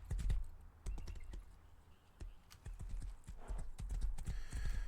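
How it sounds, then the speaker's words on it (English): Horse hooves clip-clopping in the Rust video game, a series of close, sharp knocks in uneven rhythm at moderate volume, with faint keyboard typing in the background. "Now I have a horse."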